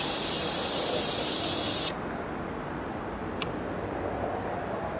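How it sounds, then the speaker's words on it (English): Air escapes from a car tire valve stem under an air hose with a loud, steady close hiss that cuts off sharply once the hose is pressed firmly down, leaving quiet background hum and one small click. "Doing this will allow air to escape, but once you press the hose down firmly on the valve stem, the flow of air will stop"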